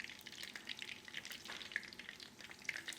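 Prawn fritters frying in hot oil, a faint, steady crackling sizzle with fine popping bubbles, heard close and with no voices.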